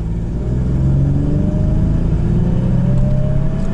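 Buick car pulling away hard in first gear, a steady loud engine drone with a rising whine as revs climb, heard from inside the cabin with no voices.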